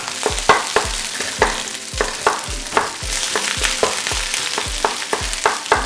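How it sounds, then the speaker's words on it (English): Pulled pork fried rice frying in a wok, a steady sizzle punctuated by a regular series of sharp scraping and tossing strokes from the spatula, close and loud. "We're just going to fry this until we get a little bit of color on it."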